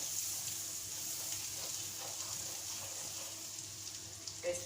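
Diced onion hitting hot butter in a pan for mussels in white wine sauce, giving a faint, steady hiss of sizzling with a few soft clicks toward the end.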